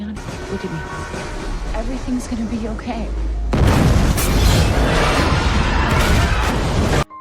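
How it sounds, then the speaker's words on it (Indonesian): Rumbling train noise under a voice, then a sudden loud boom erupts into a roaring blast that continues for several seconds before cutting off. "tiba-tiba boom, kereta mereka meledak jadi abu"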